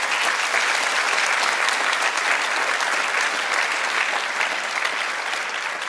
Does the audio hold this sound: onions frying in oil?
no